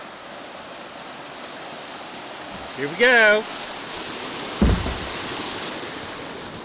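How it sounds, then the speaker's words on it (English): White water roars steadily over a dam on Antietam Creek, a loud continuous rush heard from a kayak, broken by a short voice and a knock partway through. "Look at all that white water."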